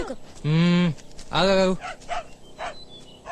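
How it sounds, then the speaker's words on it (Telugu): A dog barks twice in loud, drawn-out yelps close by, followed by a few fainter, shorter barks. "కుక్క తోక కాదు కుక్క అరుపు"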